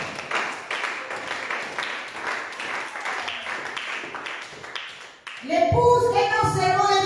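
A church congregation claps and applauds, with dense, sustained hand clapping that continues for several seconds, then gives way to a louder swell of voices and music at the end.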